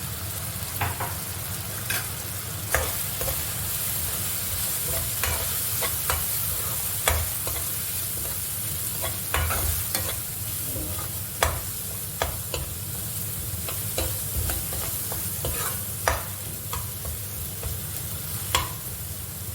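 Egg fried rice being stirred and fried in a pan with garam masala and turmeric, steady sizzling under repeated scraping strokes of the spoon, close and continuous with no talking.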